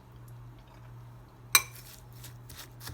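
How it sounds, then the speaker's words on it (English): A spoon works through a bowl of banana nice cream, with one sharp clink against the bowl and faint scraping afterward over a steady low hum. "But as it melts down a little bit, I'm just going to keep stirring it."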